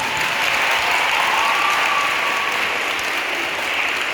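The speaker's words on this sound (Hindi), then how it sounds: "धन्यवाद आपके इस जोशवर्धक तालियों के लिए।" Sustained, dense applause from a school audience at a Women's Day celebration, steady and loud throughout with no pauses.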